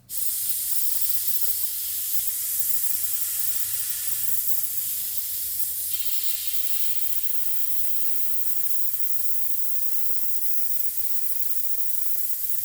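An Aventus airbrush sprays undiluted paint at low air pressure, about 10 psi, giving a steady, close hiss that runs without a break and has no talking over it.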